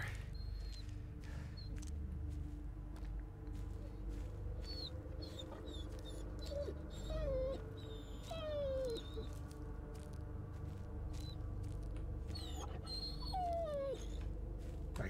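A dog whimpers and whines repeatedly in the video game Blair Witch, thin rising and falling cries over a dense, steady ambient bed, with no talk.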